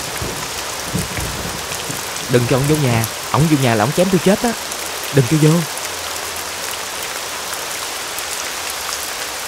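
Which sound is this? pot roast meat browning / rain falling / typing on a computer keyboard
rain falling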